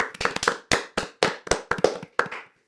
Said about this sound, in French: On peut applaudir Clémentine